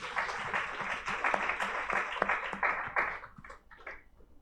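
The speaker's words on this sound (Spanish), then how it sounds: "un aplauso para ella" A church congregation applauds steadily, many hands clapping together before the clapping thins out and fades near the end.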